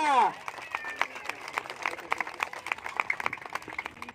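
An audience at a children's puppet show in Pune claps and cheers, a dense burst of many hands up close, with children's voices mixed in.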